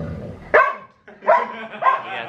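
A dog gives three sharp, close barks with short pauses between them, the first the strongest, the later two slightly rougher and drawn out.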